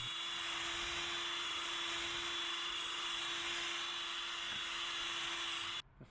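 A polishing machine buffs the wheels of a Nissan Skyline with compound, running as a steady high whine with a constant tonal hum and an even, loud drone before cutting off abruptly at the end.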